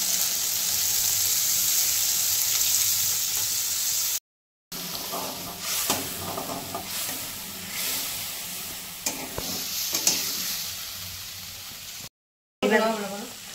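Ridge gourd and paneer sizzling in a pan, a strong steady hiss that breaks off, then returns with stirring scrapes and bubbling after water goes in, with brief silent gaps and a voice speaking at the end.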